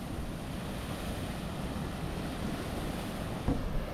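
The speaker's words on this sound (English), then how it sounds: "There's a bit of swell, so I'm gonna have to talk up over the waves." Ocean swell and surf breaking along a shoreline where squid is being caught and cooked, a steady broadband wash with wind buffeting the microphone and a slightly stronger surge near the end.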